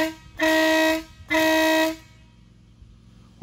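A WOLO 619 Big Bad Max air horn, mounted inside the pillar pod of a 2015 RAM 2500, blasts twice at close range: two loud, brassy, sustained tones of about half a second each, separated by a short pause, with no one speaking.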